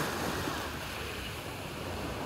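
Black Sea surf washes steadily onto Chaika beach in Sochi on a hot, clear summer day, a continuous broad roar of waves with a little wind rushing over the microphone.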